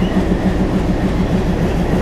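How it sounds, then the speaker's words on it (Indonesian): An Indian Railways train rolls past close by, giving a steady, loud rumble with a regular clickety-clack of wheels over rail joints throughout. "Indian Railways."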